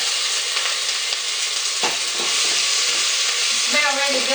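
Pork sizzles and fries loudly in a hot pan already holding onions and garlic, a steady close crackling hiss with a few stirring scrapes and no talk.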